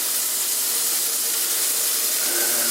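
A burger patty sizzles in a hot cast iron pan, giving a steady, close hiss that holds for the whole span with no voices.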